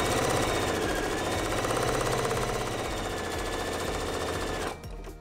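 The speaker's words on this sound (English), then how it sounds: "we'll pivot and stitch 1/4 inch away from the other long edge" A sewing machine stitches fabric pennant bunting a quarter inch from the edge, a loud rapid mechanical chatter running continuously before cutting off in the last half second.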